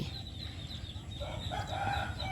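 Chickens cluck and a rooster crows faintly in a rural outdoor setting, soft bird calls layered over a low, steady background rumble without talk.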